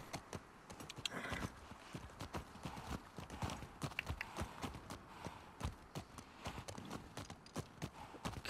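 Horse hooves gallop in the video game The Last of Us Part II, a fast, steady clip-clop of hoofbeats that is close and prominent throughout, with no speech heard.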